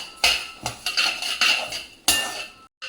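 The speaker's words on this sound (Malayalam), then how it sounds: "നല്ലപോലെ വറുത്തെടുക്കണം" Rice for ghee payasam being roasted in a pan, a metal spoon scraping and knocking against the pan in uneven strokes, close and clear with a few louder clanks and no talk.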